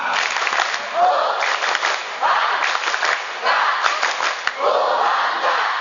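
University students at a campus orientation perform a group clapping chant, rhythmic bursts of shouting and clapping rising and falling in waves, loud and close, with short pauses between phrases.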